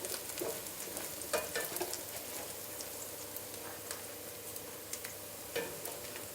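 Chorizo frying in a pan for carrot soup gives a steady, quiet crackle and sizzle, with occasional brief spatula scrapes and pops.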